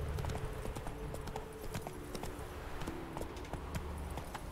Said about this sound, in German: Jetzt reite ich lieber mit dem Pferd.